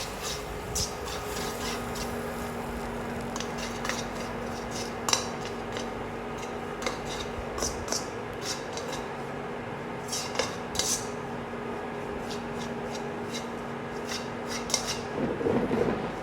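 A utensil scrapes and clinks against a pot while flour is worked into cassava paste, giving steady rubbing strokes with occasional sharper taps, close and fairly quiet throughout.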